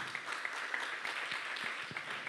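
Applause from a conference audience, faint and distant, a soft, even patter of clapping that holds steady for a couple of seconds.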